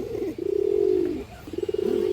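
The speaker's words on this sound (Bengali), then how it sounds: "মাশাআল্লাহ খুব সুন্দর একটা মাদি কবুতর" A black female pigeon from a paired breeding stock coos in low, throaty rolling calls close by, one long steady coo followed by a pulsing, throbbing series, with no talk.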